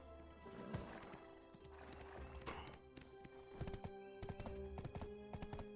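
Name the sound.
horse galloping in the video game Black Desert Online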